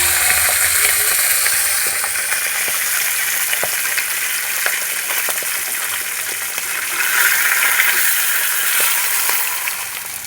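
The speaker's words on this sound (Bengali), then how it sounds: "পুঁই শাক ঘন্টার জন্য মুড়োগুলো ভালো করে লাল লাল করে ভেজে নেব" Fish heads frying in hot oil for a Bengali pui shak ghonto, giving a steady, dense sizzle that fills the whole stretch, with a few small pops and crackles and no voices.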